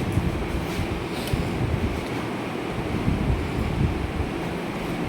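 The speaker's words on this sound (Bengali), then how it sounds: "আমি আবার বাড়ি জল দিচ্ছি।" Tap water pouring steadily into a container, a continuous rushing wash that holds even from start to finish with no voices over it.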